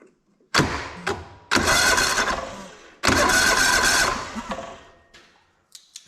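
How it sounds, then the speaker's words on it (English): A John Deere LX186 riding mower engine cranks over in three loud, close bursts of churning starter noise separated by short pauses, ending in faint clicks and no talking. "That seems like it turns over okay."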